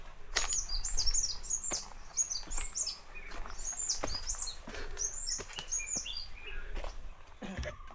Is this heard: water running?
no